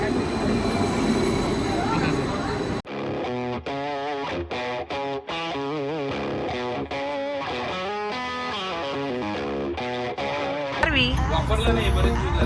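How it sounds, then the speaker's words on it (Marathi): Steady rumbling train noise in Oslo, Norway fills the background while music plays over it; the ride's roar continues throughout. "आम्ही ट्रेनमध्ये बसलोय"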